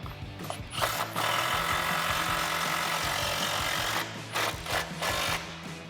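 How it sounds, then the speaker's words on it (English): An impact driver drives a screw into a Jeep Wrangler in one sustained, loud rattling burst of hammering, with brief pauses near the start and end. "Just gonna start a couple threads and then hit it the rest of the way with my impact."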